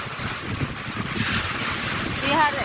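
Sea waves washing steadily at close range along a shore where plastic bottles drift in the water, with wind buffeting the microphone throughout.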